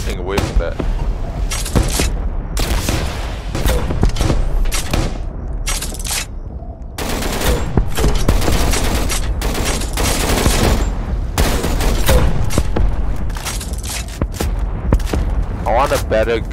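Gunfire in the Roblox game Dummies vs Noobs, a dense, near-continuous fusillade of shots and booming thuds running throughout, with speech mixed in over the loud shooting.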